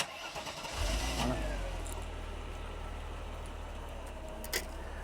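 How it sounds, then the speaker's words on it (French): A car engine cranks and catches, then settles into a steady low idle with a brief click near the end. "démarre, mais longtemps jusqu'à temps que le moteur il prenne"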